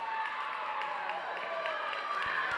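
Crowd at a girls' high school volleyball match against Mt. Lebanon, a steady wash of cheering and scattered clapping in a gym, sustained and fairly loud throughout with no clear breaks.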